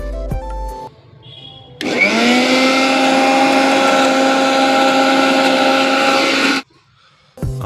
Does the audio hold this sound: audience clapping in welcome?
no